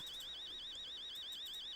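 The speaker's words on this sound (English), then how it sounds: "fire alarm." A warbling, wavering electronic fire alarm sounding continuously and loudly in a horror video game, with no talk over it.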